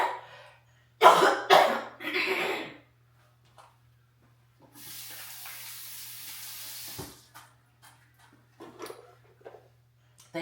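Kitchen tap water running into a sink while pico de gallo is being made, a steady close hiss lasting a couple of seconds, set between coughs and quiet clatter.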